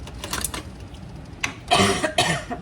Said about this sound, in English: That little smoke is making me cough.